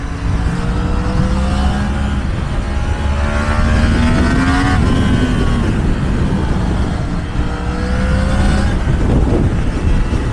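A Yamaha MT-10 motorcycle accelerates hard with the throttle opened, its loud engine note climbing through rising sweeps, dropping briefly, then climbing again under heavy, close wind rush.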